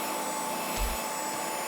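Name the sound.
Dyson DigitalSlim Fluffy cordless vacuum cleaner running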